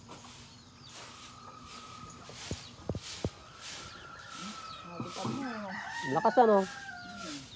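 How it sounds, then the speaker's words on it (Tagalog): Chicks and a chicken clucking and chirping in a farmyard, scattered calls building to a busier burst of clucks near the end, with a person speaking quietly among them. "Malalaki na pala yung mga sisiyo."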